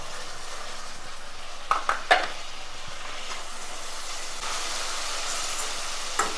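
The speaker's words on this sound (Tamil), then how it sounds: "இந்த தக்காளி எல்லாம் ஃபுல்லாக நல்லா மசிகிற அளவுக்கு ஒரு 2 நிமிஷம் இதை நல்லா வதக்கிக்கலாம்." Chopped tomatoes, two medium ones, sautéing with onions in a pan for a Tamil fish kulambu, a soft steady sizzle broken by a few sharp clinks of a spoon stirring against the pan, with no talking.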